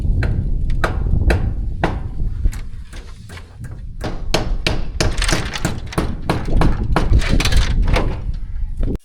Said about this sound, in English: go get the hammer and hammer them in if you want